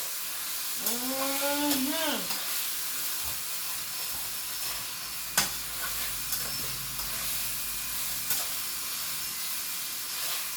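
Food browning in a frying pan while cooking ackee and saltfish with fried dumplings, a steady broadband sizzle running throughout, with a brief burst of speech near the start and a few clinks.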